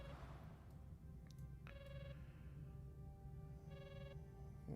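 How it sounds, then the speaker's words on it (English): An in-game telephone in the Star Trek: Voyager – Across the Unknown video game rings in two short electronic bursts, a faint tonal trill over a steady low background hum. "Ignore the ringing phone."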